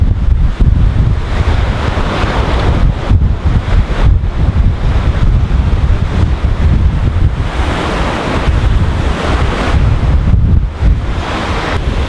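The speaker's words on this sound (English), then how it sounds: "You can see why they call this a wild coast. Jagged rocks everywhere, fair sized waves." Fair-sized waves crashing against jagged rocks on a wild African coast, loud surging roars that swell and recede, with heavy wind buffeting the microphone and no voices.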